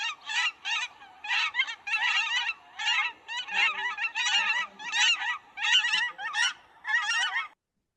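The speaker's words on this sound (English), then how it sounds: "So I'm going to play a call for both. So here's cackling." Recorded call of a cackling goose, a rapid series of high, chattering honks in repeated bursts, loud and close, ending abruptly.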